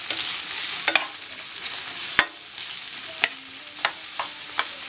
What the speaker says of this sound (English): Let those saute a little bit.